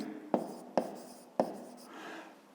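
A pen or chalk writes out a step of a fifth-grade maths solution, making three quick, distinct scratching strokes followed by a fainter rubbing, all quiet and close, with no talk.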